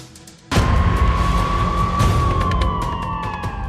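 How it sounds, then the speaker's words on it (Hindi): A loud, close ambulance siren bursts in abruptly and wails continuously with a rising and falling tone, accompanied by a rumbling vehicle. "एक बार फिर एम्बुलेंस के सायरन सुनाई देने लगे।"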